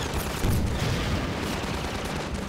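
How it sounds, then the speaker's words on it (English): Submachine guns firing in the video game Half-Life 2, a dense continuous clatter of rapid shots layered into a loud, steady wash of gunfire with no pauses. "you guys are shooting at it with fucking submachine guns."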